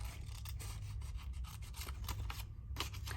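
Scissors snip steadily through scrapbook paper while a pocket is cut out, a close series of short rasping cuts with brief pauses, no talking.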